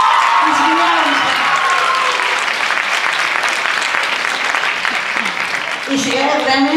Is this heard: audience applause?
yes